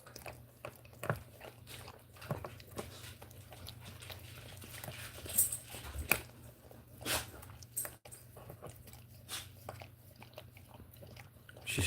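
A dog gnawing on a spoon, giving close, irregular crunching and clicking bites scattered over steady low background hum, with a few sharper knocks and no talking.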